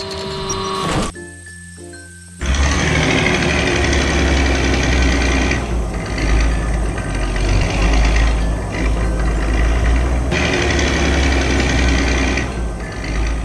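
A heavy engine rumbles steadily and loudly after a brief quiet start, its low drone continuous with slight fluctuations throughout.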